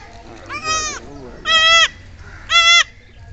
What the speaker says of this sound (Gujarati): બકરીને આ બચ્ચું બોર્ન થયેલું છે